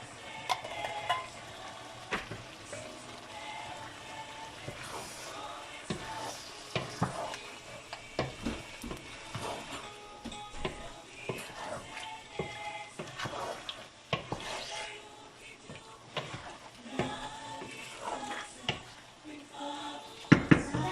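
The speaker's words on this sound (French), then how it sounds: "Maintenant, je vais mettre les tomates." Tomatoes going into a pot of vegetable soup, with intermittent stirring scrapes, soft sizzling and clinks of utensil against the pot, fairly quiet and close, no talk.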